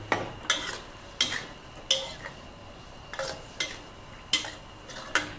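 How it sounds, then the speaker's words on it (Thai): Fish balls stir-fried in red curry paste in a pan, the spatula giving sharp scraping clacks at a steady, irregular beat about every half second, close and fairly loud over a faint simmer, with no voices. "ก็จะผัดให้มันมีน้ำแบบคลุกคลิกอะค่ะ"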